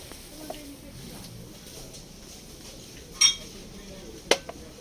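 Two brief glassy clinks of drinking glasses being handled, a few seconds apart, over a quiet room hum, with a faint tap early on.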